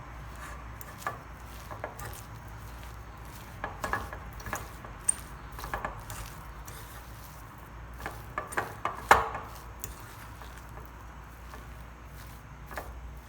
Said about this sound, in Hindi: फोक की मदद से हम इसको अच्छे से मिक्स कर लेंगे